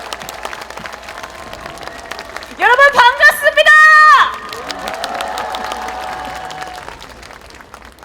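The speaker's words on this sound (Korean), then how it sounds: "뜨거운 박수 부탁드립니다." A crowd at an outdoor political campaign rally by a train station claps and cheers while a speaker's amplified voice greets them over the loudspeakers; the applause continues as a steady background wash.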